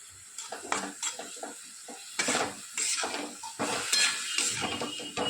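Vegetables and spices stirred in a metal pan, with repeated scraping and clinking strokes over a steady sizzle, close and fairly loud with no talk.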